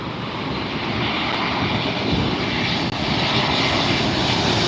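An Alaska airplane coming in to land at LAX makes a loud, steady roar that swells slightly as it passes close overhead, with no talking.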